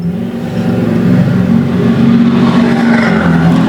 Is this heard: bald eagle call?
no